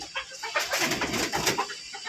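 Fayoumi chickens cluck and chatter on a village farm, several birds calling at once in a close, steady flock murmur.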